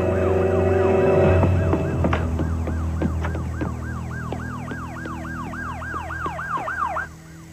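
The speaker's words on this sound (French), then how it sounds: "Ce sont peut-être les sirènes qui lui ont fait peur." Police sirens wail in a fast, rising-and-falling cycle over low rumbling traffic, loud at first, then steady before cutting off near the end; no talking.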